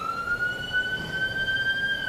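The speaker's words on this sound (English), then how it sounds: "That's a serious siren." Loud steady warning siren wailing across Boca Chica, Texas, sounding ten minutes before the Starship SN5 150-meter hop, a sustained high tone with faint overtones held continuously over low ambient rumble.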